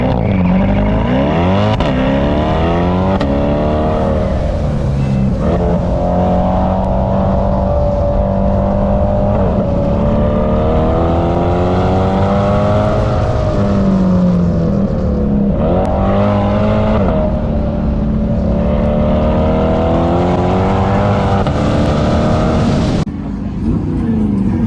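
A C8 Corvette and a C7 ZR1 drag racing at the Freedom Factory, with the C8's AC compressor just failed: engines roar loudly and continuously, pitch sweeping up and down through gear changes, close by, mixed with crowd noise.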